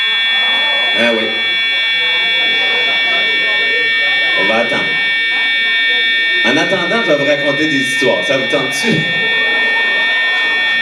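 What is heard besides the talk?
building fire alarm ringing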